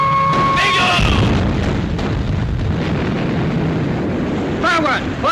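Heavy booms roll out from naval guns in a 1942 British war film, loud and sustained with rumbling blasts and a whistling overtone near the end.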